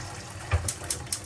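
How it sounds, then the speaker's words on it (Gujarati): Water splashes briefly into a pressure cooker being readied for steaming khaman, in a few quick, close pours lasting about a second. "પાણી નાખી દીધું."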